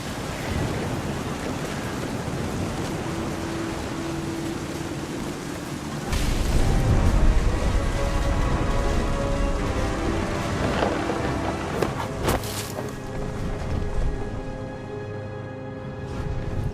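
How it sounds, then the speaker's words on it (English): Steady heavy rain pours throughout while rolling thunder booms in close, swelling loudly midway with a sharp crack near the end before easing back to the rain's constant hiss. "The thunder sounded much too close and full of angry power"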